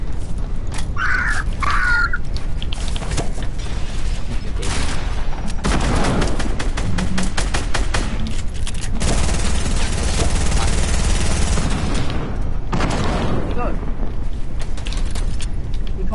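Video game gunfire comes in rapid, loud bursts of shots over a dense, noisy game soundscape with creaking mechanical sounds, heard alongside speech.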